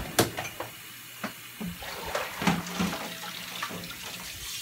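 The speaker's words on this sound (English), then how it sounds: "the sink is filling up with water because I have the drain blocked by the cookie sheets and stuff" Kitchen sink filling from the tap with the drain blocked by cookie sheets, a continuous running-water stream punctuated by clinks and splashes of dishes being handled nearby.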